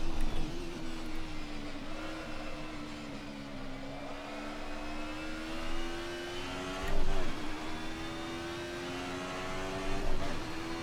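DTM race car engine on a flying lap in Assetto Corsa, holding a loud, steady high-pitched drone with rising and falling pitch through gear changes and a few sharp revving surges.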